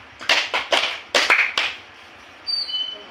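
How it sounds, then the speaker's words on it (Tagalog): A classroom of students gives synchronized group claps in quick bursts, a set of three followed by a second cluster, then a softer pair of claps after a pause. "Bigyan natin ng 3 palakpak ang bawat isa"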